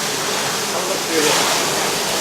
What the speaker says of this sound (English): So, water going on to the top wheel now, filling the bucket.